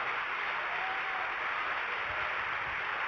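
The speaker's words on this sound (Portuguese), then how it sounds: "Aplauda ele bem forte porque ele está aqui nesse lugar." Congregation in a church clapping together during a sermon: a continuous, fairly soft spread of many hands that stays level throughout, with no voices on top.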